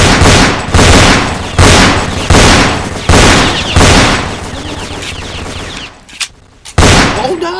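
Loud bursts of automatic gunfire in the video game Roblox come in repeated heavy volleys about every second, each fading off, with a short pause near the end before another burst.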